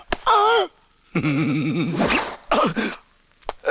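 A trouser zipper is pulled up during a Tamil comedy film scene: a brief rasping zip amid strained, wavering vocal groans and short breathy sounds, close and loud.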